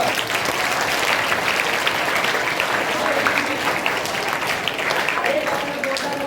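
Sustained applause from a seminar audience, steady dense clapping at even loudness across the whole stretch, close and full, with a few voices faintly mixed in.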